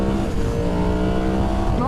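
Engine of a 2023 Yamaha MT-10 SP motorcycle running loud and close, a steady harmonic drone with slight rising pitch toward the end, heard alone over about two seconds.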